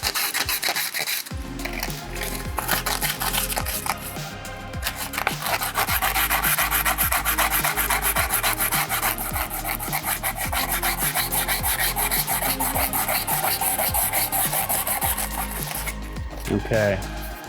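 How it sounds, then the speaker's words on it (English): Sandpaper rubbing rhythmically on a 3D-printed face shield part, a close, steady rasping stroke repeated back and forth for several seconds, with no talking. "we want to take our sandpaper and make sure it's nice and filed down"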